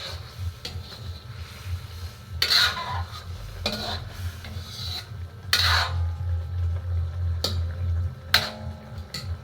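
A spoon stirs chicken liver adobo in a pot with scraping, clinking strokes over a low simmering bubble, the stirring coming in separate bursts that are close and moderately loud.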